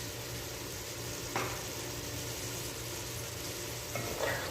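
Chicken afritada with taro sizzles in a pan, a low steady frying hiss with a couple of brief scraping stirs, faint and close.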